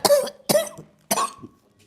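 A person gives three sharp, harsh coughs in quick succession, close and loud, with nothing else heard.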